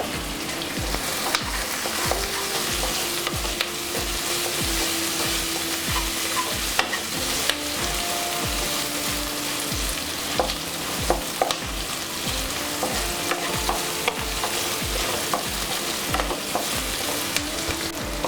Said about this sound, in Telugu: అలానే పచ్చిమిరపకాయలు, వేసుకొని ఫ్రై చేసుకోవాలి.